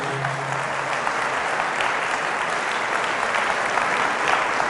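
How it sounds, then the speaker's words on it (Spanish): Loud, sustained applause from a church congregation at a Pentecost Mass, a dense steady clapping that fills the whole stretch without pause. "Fuertes aplausos a la palabra de Dios."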